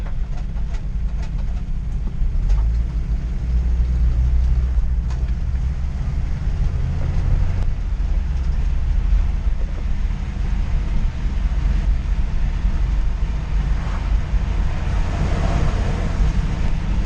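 Loud, steady cabin roar of a 1985 Toyota 4Runner on the move, a dense low-frequency drone with rattles and faint clicks running unbroken throughout.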